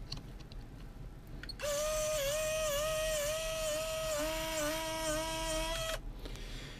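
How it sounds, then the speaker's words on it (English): The hot motor of a scale model winch whirs with a high, steady electric whine for about four seconds, close and clear, and its pitch wavers slightly while the free spool runs. "the motor is still working quite happily, so that's good to see"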